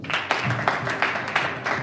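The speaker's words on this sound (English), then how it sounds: "Clap for yourself." An audience at a memorial anniversary quiz competition applauds the participating students, a full crowd of clapping hands with rhythmic surges, fairly close and steady throughout.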